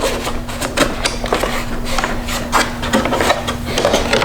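Plastic clips of a BMW G80 M3 kidney grille being pried loose with a trim tool, close scraping and rubbing with a few small pops and clicks scattered through, over a steady low hum.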